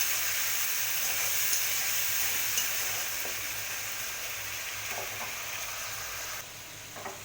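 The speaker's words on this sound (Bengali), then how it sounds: "এবার টমেটো পেস্টটা একটু দিয়ে দেবো। টমেটোটাকে ভালো করে ভেজে" Tomato paste frying with garlic in hot oil, a loud, continuous close sizzle that holds steady throughout, easing slightly near the end, with no talk.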